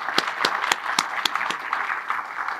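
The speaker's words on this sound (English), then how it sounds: "So let's give them a nice round of applause once again." Moderately quiet applause at a senior heroes awards event for the honorees, with a few distinct nearby claps punctuating a softer clapping crowd that tapers slightly.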